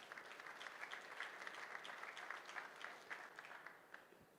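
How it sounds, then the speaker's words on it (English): An audience at an automotive industry conference applauds two speakers after their talk, with continuous, even clapping from a sizable crowd that stays level throughout and fades slightly at the close. "a big round of applause for John Dyke and Jonathan Wise"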